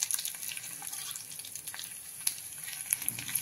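A mustard seed tempering sautés in a pan, a faint thin sizzle with light scattered crackles, quiet and steady, with no speech.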